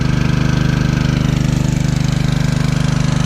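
A highbanker pump motor chugs at a gold claim pond, a loud, steady, rapid small-engine idle with an even pulsing rhythm, close by and unbroken.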